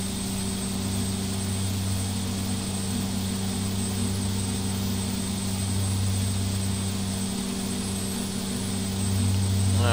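Steady drone of a turboprop airliner's engines in the X-Plane flight simulator, throttles easing back toward idle on the approach into Oakland, with constant low propeller hum and a high whine, no talk.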